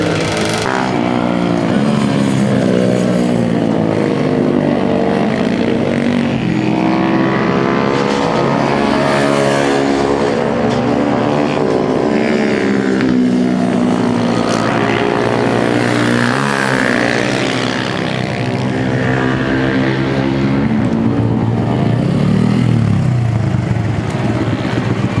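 HRC Honda Grom mini bike ridden on the Kinki Sports Land race circuit, a loud continuous buzzing engine whose pitch repeatedly rises and falls through gear changes and corners, with wind noise throughout.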